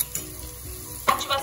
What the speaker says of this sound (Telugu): ఆనియన్స్ పచ్చిమిర్చి ఫ్రై అవుతున్నప్పుడే 1 స్పూన్ అల్లం వెల్లుల్లి పేస్ట్ కూడా యాడ్ చేసుకొని